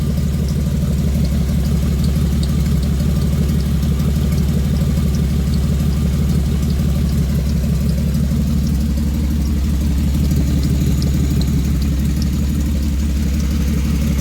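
A 3.4L engine in a 2000 Pontiac Grand Am idles steadily and loudly up close, a constant low throbbing rumble with an exhaust leak, no revving or voices.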